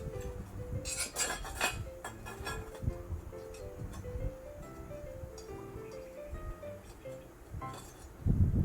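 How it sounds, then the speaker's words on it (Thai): Folding metal legs of a portable grill being assembled, with clinks, scrapes and rubbing of metal parts knocking together at close range. A few tonal ringing bits sit among them, and a louder clatter comes at the end. "ตอนนี้ก็คือ ประกอบขาที่มันพับได้นะครับ"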